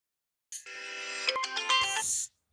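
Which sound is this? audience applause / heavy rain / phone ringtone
phone ringtone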